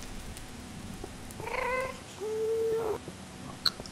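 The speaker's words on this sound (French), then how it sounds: "C'est vraiment un méchant ce chat." A cat gives two drawn-out meows close by, the first wavering and the second a longer steady wail, with a short quiet pause between them and a faint click afterward.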